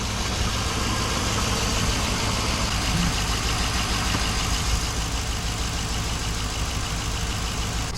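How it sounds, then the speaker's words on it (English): An old, beat-up truck engine runs steadily at idle for the whole stretch, a dense continuous rumble with no voices. "why am I carrying and showing a video of this beat up truck that actually sounds pretty good?"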